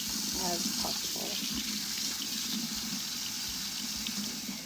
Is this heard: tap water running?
yes